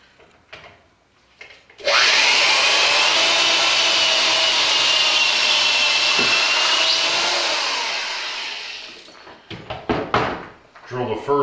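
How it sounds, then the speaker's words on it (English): A power drill whines steadily for several seconds while boring a hole in wood during model railroad trackwork, then winds down, followed by clunks and handling noises with brief talk around it. "Drill the first hole and put the bolt in."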